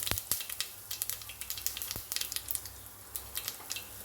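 Mustard seeds, cumin and asafoetida sizzling in hot oil for a tempering, a soft steady crackle scattered with small sharp pops and spits, close up and fairly quiet with no voices.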